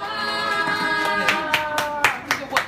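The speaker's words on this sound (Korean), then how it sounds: "큰 박수 부탁드립니다." Audience clapping welcomes a speaker from a disability rights group in Incheon: a few sharp claps rise irregularly over a sustained tonal background, growing more frequent toward the end.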